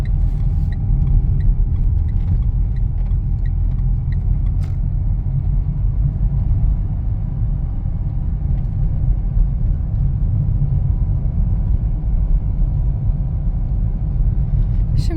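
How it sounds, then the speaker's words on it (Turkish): A car engine idling and pulling lightly as the driver gently feeds the throttle through a turn, a loud, steady low rumble from inside the car lasting the whole time. "Küçük küçük gazımı veriyorum."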